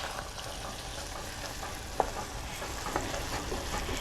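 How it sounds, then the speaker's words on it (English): Butter and vanilla dropped into a hot peanut candy mixture in a pan with the burner just turned off, giving a steady soft sizzle and bubbling with a small sharp spatter near the middle. "I'm adding my butter. I'm going to add my vanilla."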